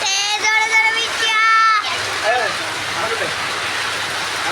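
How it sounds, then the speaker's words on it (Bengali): Heavy rain falls in a steady broadband wash, after a voice calls out loudly at the start over the downpour. "বৃষ্টি হচ্ছে, জোরে জোরে বৃষ্টি।"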